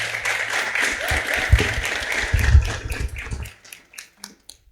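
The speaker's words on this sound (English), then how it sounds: "if you could kindly have a round of applause for Mary Yvonne Ododa" An audience greets a speaker coming up to give a welcome address at a democracy hackathon event, with a burst of scattered clapping that swells and then thins out into a few final claps.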